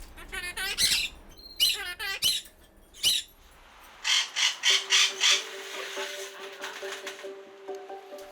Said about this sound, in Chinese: 养鹦鹉可以带来许多乐趣